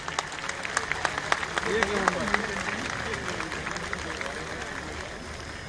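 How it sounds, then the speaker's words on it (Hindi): An audience applauds performing artists after a dance-drama at a Madhya Pradesh foundation day celebration, with scattered crisp claps running under a speaking voice. "एक बार फिर से जोरदार तालियां हमारे तमाम कलाकारों के लिए।"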